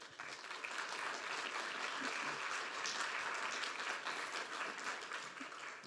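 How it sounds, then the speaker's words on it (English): Audience at a marine knowledge and ocean health conference applauding panelists, steady sustained clapping from a room full of people, somewhat distant and continuous throughout. "Warm round of applause."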